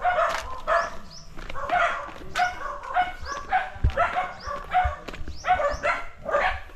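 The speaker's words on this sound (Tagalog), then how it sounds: "Dami ng aso." A pack of dogs barks in rapid bursts close by on farmland in the Philippines, sharp overlapping yaps and woofs repeating steadily throughout.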